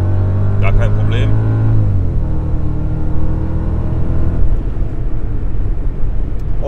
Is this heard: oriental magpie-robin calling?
no